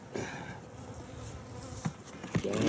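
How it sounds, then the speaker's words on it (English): Honeybees buzzing close by during a February hive inspection, a busy insect hum with a few louder individual buzzes passing near the end, no talking. "We got a down bee, y'all."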